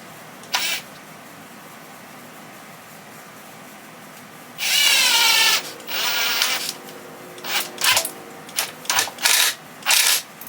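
A drill drives a screw into plywood for a cabinet toe kick: one longer whirring run, then a series of short, sharp bursts close by.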